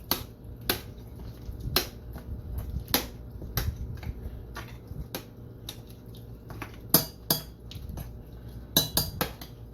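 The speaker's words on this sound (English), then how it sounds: "I'll stir them up real good." A spoon clinks and knocks against a pot while oxtails and butter beans are stirred, giving irregular sharp metallic taps over a soft, low shuffling of the food.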